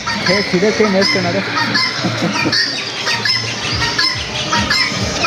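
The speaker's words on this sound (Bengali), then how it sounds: "হাত থেকে কেড়ে খেয়ে নিচ্ছে মুরগি, চিতি মুরগি" Several chickens cluck and squawk busily close by, overlapping calls in a loud, continuous flock chatter.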